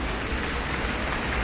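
Rain falls steadily outdoors in Saint Petersburg, a continuous broadband patter without any breaks.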